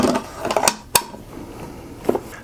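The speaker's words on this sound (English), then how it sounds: "So we pull back on the bolt, push the button in, and the bolt comes out." A Browning rifle bolt, AB3 or X-Bolt, is pulled back and removed, producing a few sharp metallic clicks and a slide, one crisp snap near the middle and another softer click later, close and alone.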